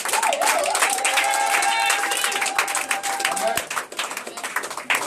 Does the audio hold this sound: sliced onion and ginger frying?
no